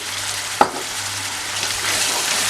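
Onions being stirred in a hot pan for Turkish onion stew, seasoned with pepper flakes, black pepper and salt: a soft steady sizzle with one sharp scrape of the spoon near the start, close and alone.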